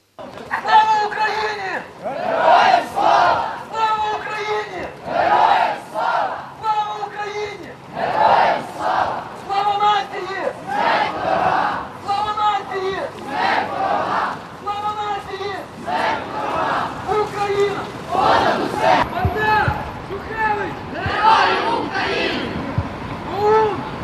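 Activists in a torch and flag march through a city's central street chant and shout in unison, a loud crowd of voices rising in repeated rhythmic bursts that carry on steadily with no pause.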